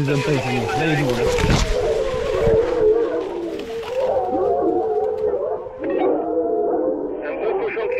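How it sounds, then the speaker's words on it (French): Hunting dogs bay in sustained, wavering cries while chasing wild boar through a maize field during a hunt, heard at a distance beneath someone talking throughout. "Les chiens, ils l'ont devant."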